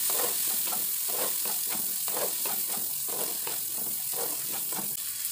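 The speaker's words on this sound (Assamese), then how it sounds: "এতিয়া গাজৰ, মটৰ, ফ্ৰেঞ্চ বিনখিনি ভালকৈ ভাজি ল'ম।" Carrots, peas and French beans sizzle steadily in hot oil, a close, constant frying hiss broken by regular scrapes of a spoon stirring the pan, with no voices.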